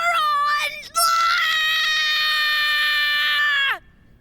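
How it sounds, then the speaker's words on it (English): A long, loud, high-pitched scream that breaks off briefly and then holds steady for almost three seconds before it cuts off, with no background sound. "Why are you screaming?"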